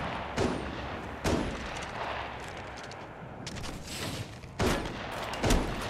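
Repeated heavy gunshots boom out in the Apex Legends Mobile battle royale game, several loud separate blasts spaced a second or so apart over a dense, rumbling background of in-game combat noise.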